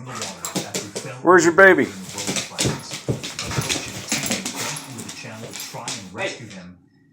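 A dog whimpers and yips in a rising, sing-song vocal burst, loud and close, while a person keeps talking to it over household background.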